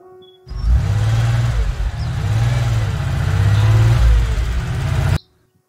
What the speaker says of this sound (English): C for car.